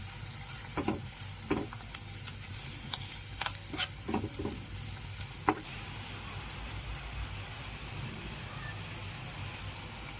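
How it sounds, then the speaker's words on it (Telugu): Green chilli pieces and coriander leaves frying in a pan while being stirred, a steady sizzle with occasional clatter of the spoon for street-style gobi manchurian, moderately close and continuous throughout. "పచ్చిమిరపకాయ ముక్కలు, అలాగే కొత్తిమీర మొత్తాన్ని యాడ్ చేసుకుని ఫ్రై చేసుకోవాలి."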